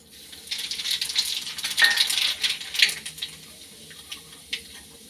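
Black cumin seeds sizzle in hot frying oil, a crisp, crackling fry with sharp pops and spits that swell and fade over several seconds, close up and without talk.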